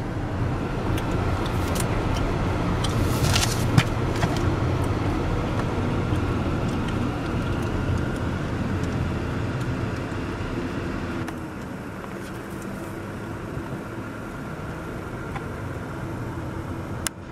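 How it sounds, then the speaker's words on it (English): Steady road noise from a car driving along on approach to the Braga Bridge, a continuous broadband rumble with tire hiss, no talking, staying fairly even throughout. "as we're driving along"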